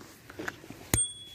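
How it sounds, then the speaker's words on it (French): The bell on a Xiaomi M365 Pro electric scooter gives a single sharp ding with a short ringing tail, preceded by faint handling clicks and quiet surroundings. "Vous appuyez sur la sonnette comme si vous vouliez sonner."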